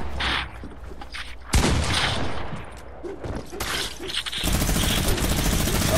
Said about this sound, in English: Person's using a minigun.